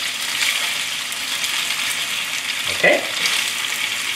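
Vegetables and thick rice noodles stir-frying in a pan, a loud steady close sizzle with one brief scrape or clatter of stirring; a voice speaks a single short word.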